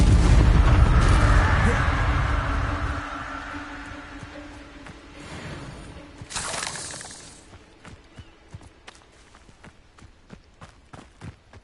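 A loud, crackling burst opens the Incendio fire spell in Hogwarts Legacy. It fades over a few seconds, a brief shattering flare follows, and then light footsteps tap on alone.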